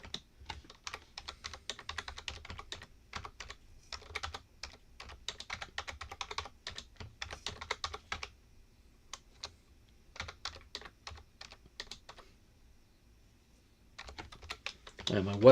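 Rapid keyboard typing in bursts with short pauses, close and fairly quiet, ending in a louder thump.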